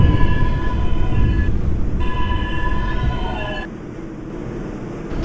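Bronx-bound 4 Express subway train running in the BVE train simulator game, with a steady loud rumble and a sustained motor whine whose tones shift, dropping away briefly midway.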